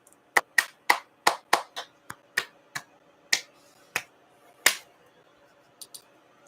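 A dozen or so sharp finger snaps ring out in quick irregular succession, close and crisp, thinning to a few scattered snaps at the end.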